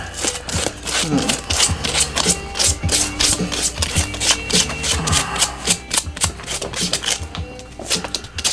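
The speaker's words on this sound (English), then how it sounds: "Sand it really good where it's nice and clean, fresh rubber." Sanding of tire rubber before a GlueTread patch goes on: fast, steady, rhythmic scratchy rubbing strokes continue without a break, close and fairly loud.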